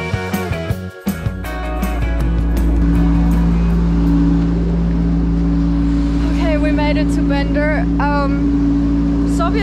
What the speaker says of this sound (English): Soviet buses will bring you everywhere, but they are definitely not comfortable.